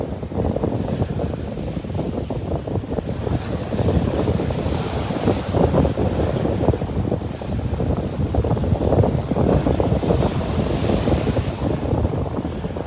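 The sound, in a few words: ocean waves on a windy beach in Naples, Florida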